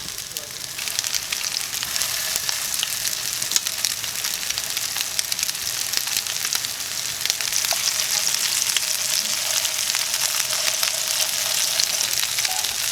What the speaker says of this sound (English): I'll put our meatballs in. And I just want to brown the outside of them